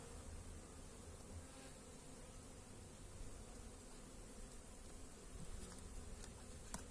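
Steady, dense buzzing of many honey bees at a hive, continuous and even throughout, with no voices.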